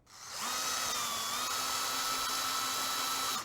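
A power drill runs steadily for about three seconds, driving a screw into a plastic room station with metal parts; a continuous whine starts, holds an even pitch, and stops abruptly, close and loud with no talking.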